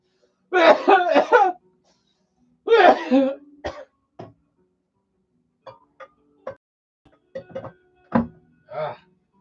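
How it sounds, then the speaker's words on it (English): A person coughs and clears their throat in several separate bursts, close and fairly loud at first, then trailing into fainter scattered coughs and small knocks with quiet gaps between. "I don't want to cough."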